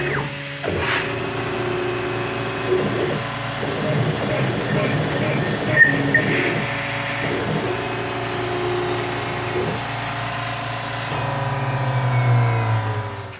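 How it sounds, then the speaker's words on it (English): A CNC machine's spindle runs steadily while a spotting drill cuts aluminum to open a helix entry, a loud continuous mechanical drone with intermittent cutting chatter that shifts and fades near the end. "we're just going to use the spotting drill to create an opening for the helix entry"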